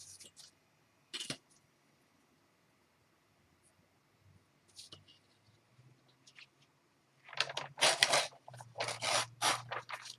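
Scissors trim paper journal tags close by, with a few isolated snips early on and then a denser run of crisp cutting and paper rustling toward the end, with quiet gaps between.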